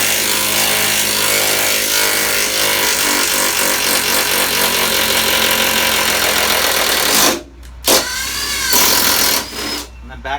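Power driver sinking a supplied 15mm self-tapping bolt into the lower stud of a Ford Transit van body, a steady loud whir running for several seconds before stopping, followed by short bursts, with speech around it.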